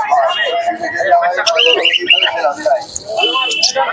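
Birds and pigeons chirp and squawk close by in a busy mix at a pigeon market in Santipur, with voices talking over them throughout.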